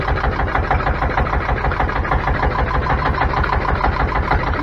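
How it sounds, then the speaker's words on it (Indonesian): A small boat's engine on an Indonesian spearfishing trip runs loud and close, a steady rapid chugging with a constant mechanical throb and no talk over it. "Oke, saya hidupkan mesin dulu."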